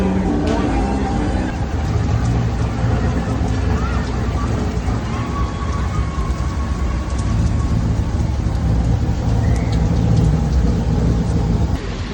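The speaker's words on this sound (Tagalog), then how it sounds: "It's raining." Heavy rain falls outdoors as a dense, steady hiss with deep rumbling underneath, loud and continuous throughout, with faint voices mixed in.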